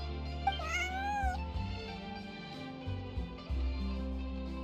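In Genshin Impact, a collared stray cat named Bonnie gives one clear, drawn-out meow with a bending pitch over steady game music, followed by the music carrying on alone.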